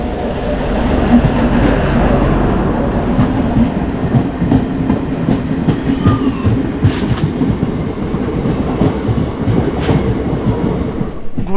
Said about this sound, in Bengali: এটা হচ্ছে পঁচাত্তর চুয়াত্তর এক ধুবড়ি ডেমু ইন্টারসিটি এক্সপ্রেস